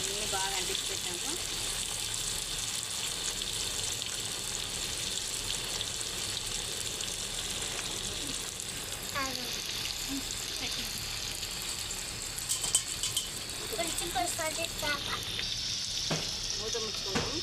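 Bochcha fish pieces, coated in chili powder, salt, turmeric and coriander powder, fry in hot oil with a dense, continuous sizzle that stays close and steady throughout, with occasional stirring and clinks near the end.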